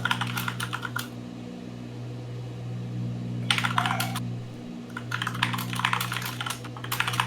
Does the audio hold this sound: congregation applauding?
no